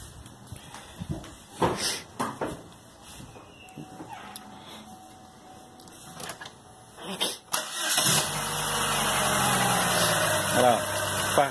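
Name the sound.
GM Spin car engine starting and idling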